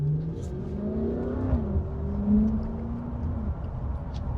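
A Dodge Hellcat engine revs nearby, its rising and falling growl carrying steadily into a car cabin, moderately loud and with no talking.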